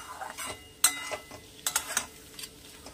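Bethua saak greens are stirred in a pan, with soft scraping and a few sharp clinks of the spoon against the metal, close and quiet.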